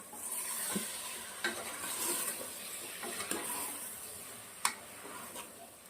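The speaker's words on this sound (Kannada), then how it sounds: "ಸೊ ಆ್ಯಡ್ ಮಾಡಿದ ನಂತರ ಒಂದು ಒಳ್ಳೆ ಮಿಕ್ಸ್ ಕೊಡೋಣ." Mixed vegetable curry sizzles softly in a pan while it is stirred after sambar powder is added. There are occasional scraping and tapping strokes of the spoon, close by and alone.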